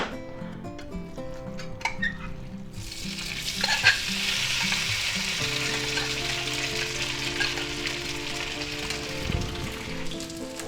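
Marinated beef goes into a hot oiled pan and sizzles loudly and steadily for several seconds, with a few utensil clinks and stirring noises at the start and no talking.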